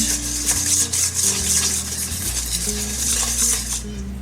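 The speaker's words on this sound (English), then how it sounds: "I'm going to add half of that sugar to our egg yolks, and we're going to whisk them together until they combine." Egg yolks and sugar are whisked together in a bowl, a quick rhythmic metallic scraping and clinking that runs continuously and close, with no one speaking.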